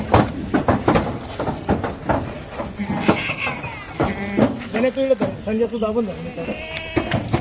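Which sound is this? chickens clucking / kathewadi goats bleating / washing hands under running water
kathewadi goats bleating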